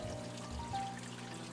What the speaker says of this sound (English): So as you can see, the water is running into my sump from the reservoir on the other side.